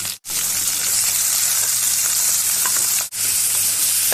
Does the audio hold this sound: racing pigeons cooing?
no